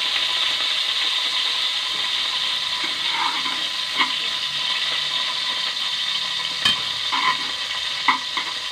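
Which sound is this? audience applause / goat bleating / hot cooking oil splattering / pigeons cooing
hot cooking oil splattering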